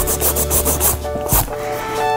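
Acrylic nail extension being shaped with a nail file, a steady series of short rasping strokes up close, repeated in a quick back-and-forth rhythm with a brief louder scrape partway through.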